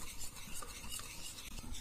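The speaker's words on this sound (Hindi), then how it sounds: "इस प्रकार से लगातार चलाते रहे जिससे कि हमारा मैदा है वो बिल्कुल ही गाढ़ा हो जाएगा।" Flour and water batter for jalebi is stirred continuously in a mixer, giving a soft, steady whirring and sloshing close up with no talk.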